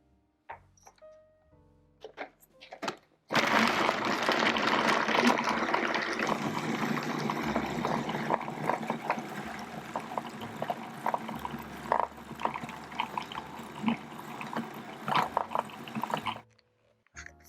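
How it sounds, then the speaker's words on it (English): A food processor runs continuously while soy milk is added to brownie batter, a loud churning whir lasting over ten seconds, framed by short clicks and handling noises before and after. "add the soy milk into your food processor while it's running"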